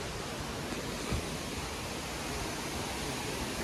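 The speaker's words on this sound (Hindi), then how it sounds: "उधर पानी की आवाज़ आ रही है भाई, यहाँ पे झरना है।" A steady, full roar of a mountain waterfall near a cave shrine, even and unbroken throughout, fairly close.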